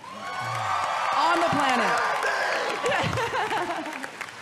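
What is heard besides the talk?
audience applause and cheering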